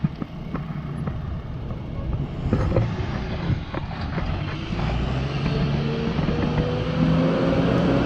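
A wreck tow truck rumbles and pulls away on a road, its engine drone swelling steadily over several seconds amid continuous traffic and road noise heard from nearby.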